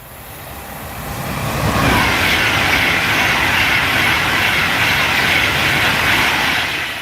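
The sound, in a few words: Pendolino train passing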